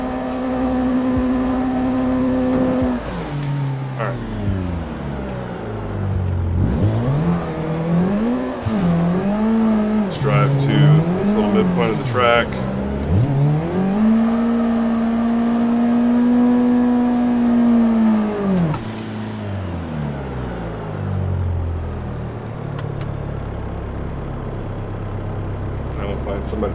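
A car in the Assetto Corsa racing game, driven at a circuit drifting event, weaves to warm its tires, its engine revving up and down in long rising and falling swells, loud and continuous, with a voice talking over it.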